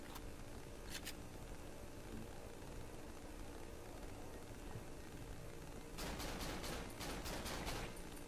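Gunfire in the horror game Cry of Fear rings out as a short double burst early on, then a rapid cluster of shots toward the end over a steady noisy background.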